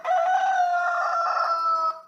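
A rooster crows once in a single loud, clear cock-a-doodle-doo call, close up and alone with no other sounds around it.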